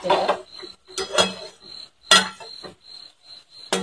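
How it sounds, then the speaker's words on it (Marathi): Eggs cracked one at a time into hot oil in a pan for egg bhurji, a few sharp taps and clinks, each followed by a steady high sizzle, with a voice talking between them. "आता हे अंडे फोडायचे"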